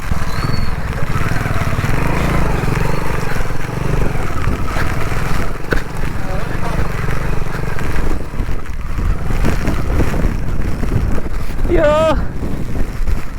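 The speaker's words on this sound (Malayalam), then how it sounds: "ഈ ഒരു സൈഡിലോട്ട് നല്ല കാറ്റടിക്കുന്നുണ്ട്" Strong monsoon crosswind buffets a stock Hero Splendor motorcycle on an off-road ride, a heavy continuous rumble of wind noise over the engine, with a person talking beneath it and a brief rising whistle near the end.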